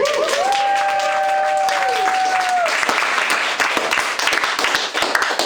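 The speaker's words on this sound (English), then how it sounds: "Come on, let's give a round of applause." A live audience at a performance gives a steady round of applause that fills the room, with a sustained whistle rising above the clapping early on before the sound thins out.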